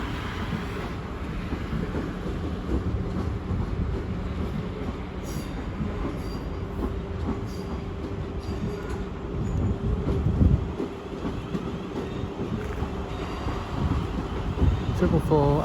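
A train standing at a London terminus on a service bound for Weymouth gives a steady low rumble and hum throughout, with faint wheel squeal and a brief louder surge near the end; people talk nearby.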